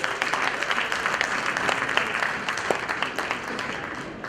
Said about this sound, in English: let's acknowledge it with a big applause for all of us